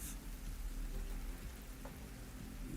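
Steady rain falls in the Metal Gear Solid 3 remake video game, a continuous close hiss of drops with a low rumbling bed underneath and no talking.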